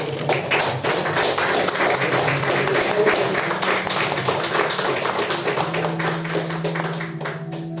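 A church congregation applauding together, steady dense clapping from many hands that fills the room, loud and sustained before slowly thinning out.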